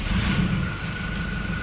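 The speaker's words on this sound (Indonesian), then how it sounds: "Oke, sekarang kita hidupkan mesinnya." A diesel car engine runs with a steady, loud low rumble and a faint high whine above it, heard up close with no talking.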